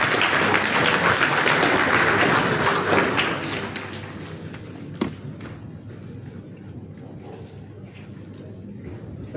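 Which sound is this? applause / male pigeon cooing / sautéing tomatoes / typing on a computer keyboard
applause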